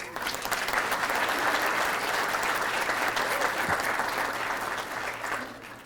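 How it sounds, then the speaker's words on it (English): Sustained applause from a crowd at an exhibition opening at the Indian Pueblo Cultural Center, a steady wash of clapping that holds for several seconds and fades slightly at the end. "give Dr. Michelle a round of applause"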